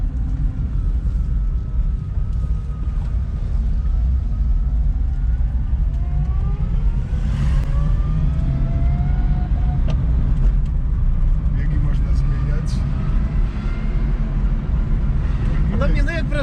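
An electric Fiat 126p Maluch conversion from Gdańsk on a test drive, with a steady rumble of road and cabin noise throughout and people talking inside the car.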